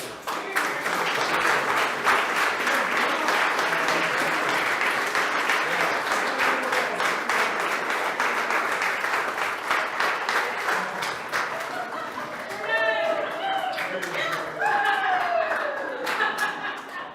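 A board meeting audience gives a long round of applause for Kim, a superintendent's spouse. The clapping is dense and sustained, with a few scattered laughs, and voices begin talking near the end as the clapping thins.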